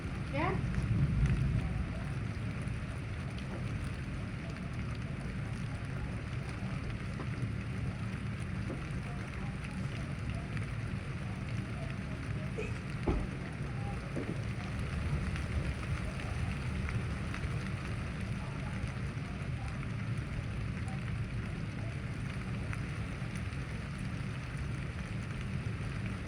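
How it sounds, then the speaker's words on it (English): Steady rain during an intense thunderstorm, a constant hiss with wind-like rumble and an occasional faint crack, while people talk quietly over it. "Is it rain? Yeah."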